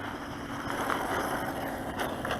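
A Bezgar HM124 1:12 scale 4WD brushless RC truck runs at full throttle on dirt, a steady high motor whine with wind noise, staying close and fairly loud throughout.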